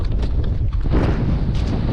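Cold, gusty wind buffets the microphone during winter ice fishing on the Pechora river, a loud, rough, continuous rumble with fluctuating bursts.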